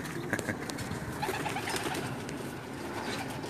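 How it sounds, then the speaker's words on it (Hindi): Pigeons coo steadily on a rooftop pigeon loft in Jeddah, Saudi Arabia, soft overlapping calls from several birds with no voices. "ये आम जो छत पे कबूतर छोड़े हुए हैं वो दिखा रहे हैं"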